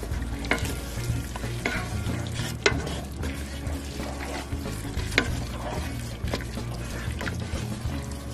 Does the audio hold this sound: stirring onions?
yes